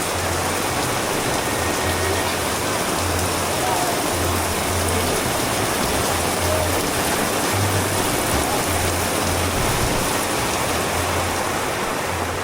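Steady rain falls at Ba Na Hills as a dense, continuous hiss close by, with a low repeating hum underneath and no break throughout.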